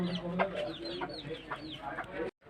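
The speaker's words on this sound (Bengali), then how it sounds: "কইটুক মুরগি দেখো।" Chickens at a meat shop cluck repeatedly in short, uneven bursts, fairly close and moderately loud, with the busy clucking continuing steadily before cutting off abruptly near the end.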